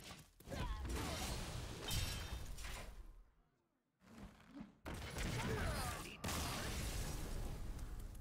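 Cannon shots in the Hearthstone card game strike with loud, crashing booms. A short quiet gap falls midway, then two more sharp, heavy impacts ring out close and full.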